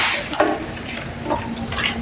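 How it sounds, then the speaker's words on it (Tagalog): Water splashes and gushes into a container to mix Versatex skim coat for a ceiling, with a loud initial pour that settles into a softer filling trickle with small surges. "Lagyan po muna natin ng tubig para hindi mamuho yung skin coat natin"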